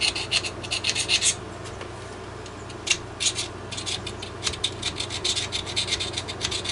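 A screwdriver used as a scraper on a rusty steering part, giving a string of short, rough scraping bursts close by over a low steady hum, with brief pauses between strokes.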